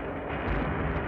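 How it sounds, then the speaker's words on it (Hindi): A heavy crashing explosion sound effect, a broad, dense roaring rumble for an ox cart slamming back down to earth, loud and sustained without talk. "बैलगाड़ी आकाश में उड़ी और पुनः जब पृथ्वी पर गिरी तो बड़ा धमाका हुआ"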